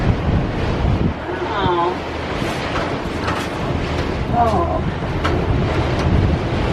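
Strong wind with gusts around 30 mph buffets the microphone with a constant roar near the Disney Skyliner gondola, while a voice speaks briefly over the gusts.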